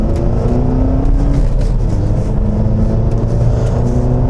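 Volkswagen Passat CC with a cut-out exhaust, its engine droning loud and close throughout, the pitch climbing slightly as it pulls, with no talking.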